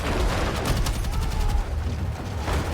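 Gunfire in the Battlefield 6 video game, a dense, continuous barrage of rapid shots and explosive booms, loud and close, filling the whole stretch without pause.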